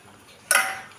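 A spoon stirs mango pickle spices in hot oil in a pan: a single clattering, scraping burst that starts midway and fades slowly, close and fairly loud, with no talking.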